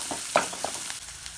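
Onions being sautéed in a clay cooking pot for gobhi manchurian, giving a soft, steady sizzle with a few brief stirring clinks and scrapes close by.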